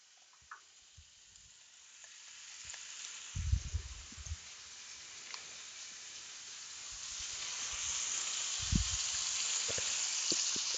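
Ham frying and popping in an iron skillet still greasy from sausage, a steady close sizzle with scattered sharp pops and a few louder spatters, no voices.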